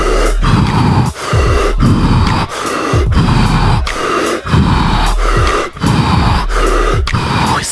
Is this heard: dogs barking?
no